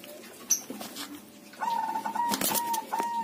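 A spotted dove gives soft, repeated coos close by, mixed with brief chirps and a few sharp clicks or knocks, mostly quiet with a fuller stretch toward the end.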